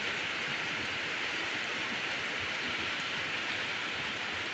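Heavy rain falls in a constant, dense hiss outdoors during a long rainy spell while youngsters bathe in it, with no voices heard over the downpour.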